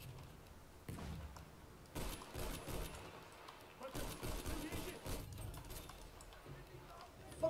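Gunfire from a weapon in the Battlefield 1 video game, bursts of shots clustered in several loud stretches against a busy battle backdrop, fairly distant and muddy, with a voice talking over parts of it.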